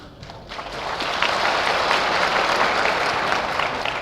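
Sustained audience applause at an emotional public gathering, a dense wash of many hands clapping that swells after a quieter start and holds steady and loud, with no voices standing out.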